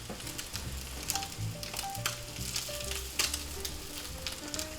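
An eye of round steak sears in a cast iron skillet, giving a steady, close crackling sizzle with small pops throughout.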